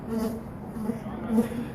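Buzzing from a giant bee display at a holiday light show, a low droning hum with swelling pulses, heard close as visitors pass beneath it.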